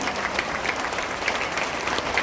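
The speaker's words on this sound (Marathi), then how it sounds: "आणि तिसऱ्या आणि शेवटच्या टाळ्या वाजवा" An audience at a hospital event in Shahapur gives sustained applause, dense and steady clapping from a crowd at moderate distance, with no speech over it.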